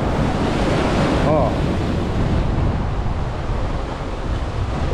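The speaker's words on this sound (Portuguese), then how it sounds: "Olha o mar como tá agitado" Rough, agitated sea surges against a seawall at Boa Viagem beach in Recife, a loud continuous roar of breaking surf with heavy wind buffeting the microphone throughout.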